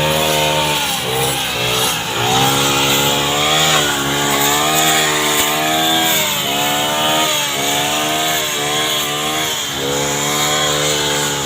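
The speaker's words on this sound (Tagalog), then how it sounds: "Grass cutter." A grass cutter motor runs loud and close the whole time, a steady buzzing whine that rises and falls in pitch as the throttle shifts, cutting tall grass.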